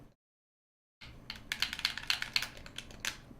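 Computer keyboard keys clack in a quick, irregular burst after a second of silence, close and fairly quiet, with no talking.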